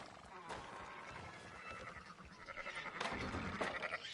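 Sheep bleat faintly in Red Dead Redemption 2, a few soft cries over steady ambient game noise, with no clear talk.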